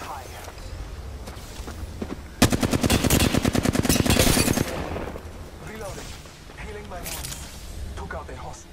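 Rapid automatic gunfire bursts in a ranked shooter video game, a dense rattling volley of shots lasting a couple of seconds, then scattered single shots and footsteps, with a player talking quietly around it.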